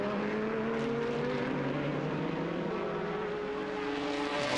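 The number 14 GT race car of Jamie Campbell Walter at Jarama in the 2002 FIA GT Championship, running with a possible problem, a steady loud engine drone with sustained harmonic whine and no talk.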